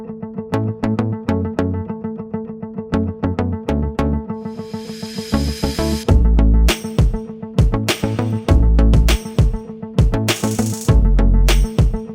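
A makeup brush is sprayed with setting spray before picking up glitter; a soft hiss of about a second rises over steady background music, followed by a few shorter spritzes.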